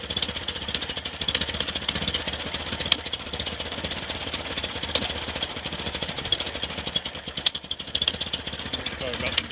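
An engine idles steadily with a low, even rumble and faint rattling under a broadband hiss, sounding fairly close but quiet and continuous throughout.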